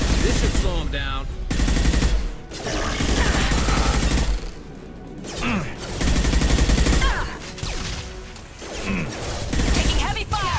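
Heavy gunfire in a Mass Effect 2 firefight: loud, sustained bursts of rapid shots in several waves with brief lulls between them, mixed with impacts and clanks.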